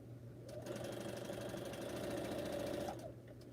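A sewing machine runs continuously stitching quilt seams, a close, even mechanical whir that starts after a moment, holds for a couple of seconds, then stops, followed by faint clicks.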